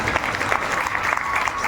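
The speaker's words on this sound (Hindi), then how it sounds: "आप भी उनके लिए ताली बजाओ।" Applause from an audience gathered for a Shiv Mahapuran katha, steady dense clapping throughout a short stretch, with faint voices underneath.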